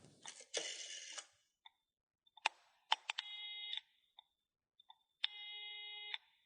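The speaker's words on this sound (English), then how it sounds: "Simon used Gerald's phone to call the police." A phone is dialed to call the police: sparse beeps and clicks, with two sustained electronic tones like a dial or ringback signal, quiet and alone with no talking.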